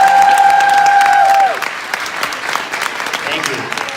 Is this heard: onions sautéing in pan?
no